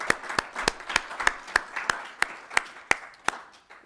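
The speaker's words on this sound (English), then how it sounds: "can we get a little round of applause for the coalition?" A single pair of hands claps about a dozen times at a steady pace, sharp and close, not the sound of a full crowd.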